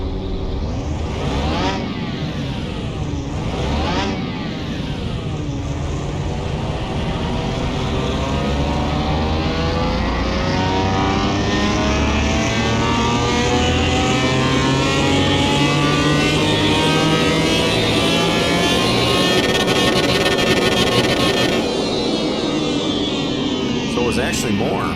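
Car engine in Car Mechanic Simulator 21 running on a dyno, a loud steady drone that rises in pitch as it revs up over a long pull, close and continuous, with brief clicks near the start.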